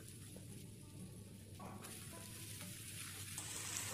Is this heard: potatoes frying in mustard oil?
yes